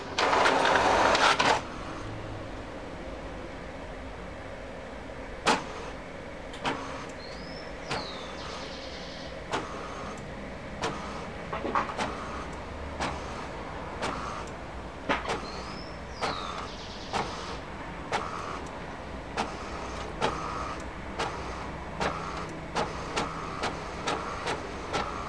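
An HP Deskjet Ink Advantage 1115 inkjet printer printing with only the black cartridge: a brief burst of noise, then a quiet run of regular clicks and soft carriage sweeps repeating every second or so, nearby.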